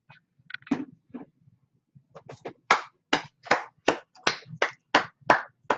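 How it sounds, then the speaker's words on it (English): Loud close-up hand clapping from a few people in a small shop, starting with scattered tentative claps, then settling into about a dozen sharp, evenly spaced claps, with faint low background hum between them. "Hand of applause."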